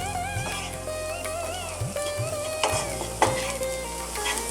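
Mutton samosa filling with turmeric, coriander, chili and cumin sizzles in a pan as it is stirred, a constant close frying hiss with repeated spoon scrapes and clinks under light background music.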